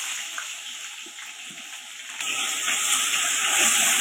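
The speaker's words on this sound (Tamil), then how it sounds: "வெங்காயம் இந்த அளவுக்கு வதக்கினா போதும்." Onions fry in oil with cinnamon, cloves and cardamom for mutton biryani. A soft, hissing sizzle grows noticeably louder and brighter partway through.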